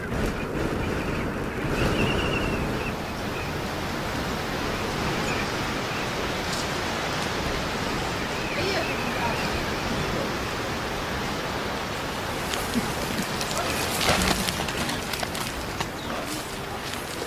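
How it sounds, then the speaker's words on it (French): Steady, roaring desert wind buffets the microphone throughout, a dense continuous rush with occasional stronger gusts and no voices. "Le vent du désert, soulevant la poussière brûlante, empêche toute activité."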